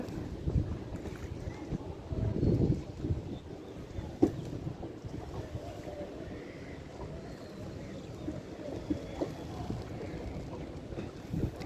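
A boat rocks on the river under a bridge at Prinsep Ghat, carrying a steady low rumble of engine and water with gusty wind noise and occasional knocks throughout.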